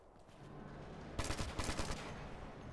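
Rapid gunfire rattles in Ghost Recon: Future Soldier, starting after a quiet moment and breaking into loud, close automatic bursts that repeat in quick clusters before settling into a steady background rumble.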